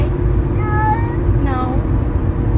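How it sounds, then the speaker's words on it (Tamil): A cat gives two short meows, one after the other, fairly close, over a steady low background rumble. "அந்த பூனையை ஹலோ சொல்லுது"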